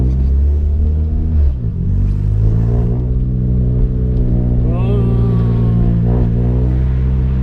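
A Peugeot 106 S16 engine is revved by pressing the accelerator, a loud close rumble that rises and falls in pitch with each push of the pedal, heard alone without speech.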